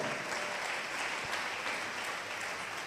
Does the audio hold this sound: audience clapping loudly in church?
yes